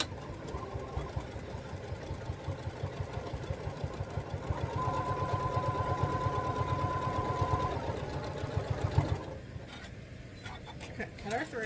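Home sewing machine stitching a straight seam on a fabric table runner, a steady rapid mechanical hum and needle chatter running for about nine seconds before stopping, with someone talking over it.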